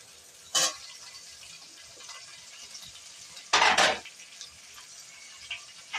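Fried potato pieces are stirred in a pan of peas and paneer masala, giving two short, close scraping clatters of a utensil against the pan, separated by quiet stretches with only faint background noise.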